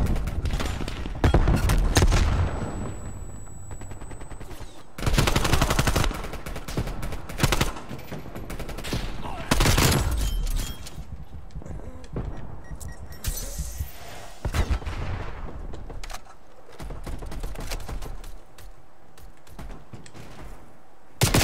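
Video game gunfire in heavy bursts, rapid automatic volleys and sharp single shots with booming impacts, loud and dense throughout with brief lulls between fusillades.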